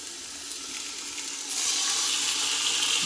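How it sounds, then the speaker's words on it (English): Pork chops searing in a hot pan give a steady, loud, hissing sizzle that swells sharply halfway through and holds bright and dense to the end. "we're gonna go ahead and place our pork chops and just set them down in that hot pan right there"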